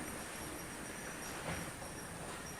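Model railway trains run steadily on an indoor layout, a continuous mid-level rolling rumble with a faint high whine and no talk.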